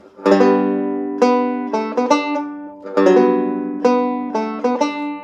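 Bright plucked tenor banjo chords strummed alone, each ringing out and decaying before the next, in a slow, steady pattern of about eight strums.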